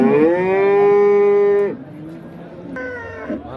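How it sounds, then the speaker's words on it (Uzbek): A Holstein cow lets out one long, loud moo close by at a livestock market, then a second shorter moo follows after a brief pause, with faint crowd murmur in the background. "Golshteyn parodasiga mansub sigirimiz mana."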